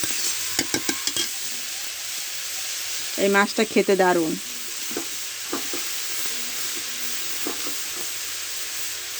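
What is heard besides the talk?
titul fish frying in oil in a wok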